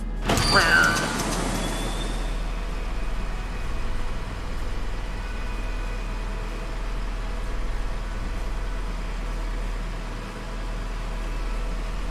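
A cruise drive charging aboard an airship in the video game The Airships: Kingdoms Adrift, a sharp rising burst settling into a steady low mechanical hum that runs on evenly, with no talk.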